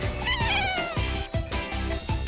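A cat meows repeatedly in drawn-out, whiny calls, close and loud over music.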